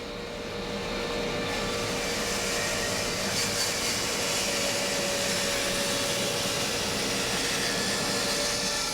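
A table saw runs steadily while cutting a truss rod channel, a continuous broadband whine and roar that holds at a constant loud level with no pauses and no talk.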